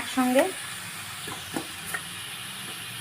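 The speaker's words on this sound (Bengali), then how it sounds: "এরপর দিয়ে দেবো কেটে রাখা পেঁয়াজ, টমেটো, ভালো করে ভেজে নেব।" Onion, tomato and beans frying together in a pan for homemade chicken chow mein, a steady soft sizzle with a few stirring scrapes; a voice speaks briefly at the start.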